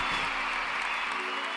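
Hands clap in steady, dense applause for a student's success during online class office hours, close and continuous for the whole moment with no voices over it.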